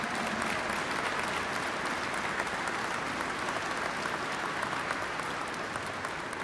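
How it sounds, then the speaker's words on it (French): Sustained applause from the audience at the opening ceremony of the Centre UNI in Caraquet, a dense, steady wash of clapping that runs without a break and with no voice over it. "Vous méritez une bonne main d'applaudissements, gens de Caraquet et de la région."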